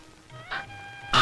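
A man imitates a cat's meow with a short, nasal, rising cry that ends in a louder, sharper yowl.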